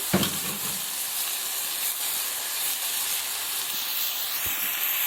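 Chicken browning in a hot pan, a loud, steady hissing sizzle close up, with a faint knock near the start and another toward the end.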